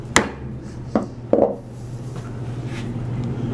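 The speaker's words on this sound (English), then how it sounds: "So now that I've made a stop cut on either side all the way along" Chisel struck into wood, making stop cuts along a stopped dado by hand: three sharp, close knocks in quick succession, then a low steady background hum.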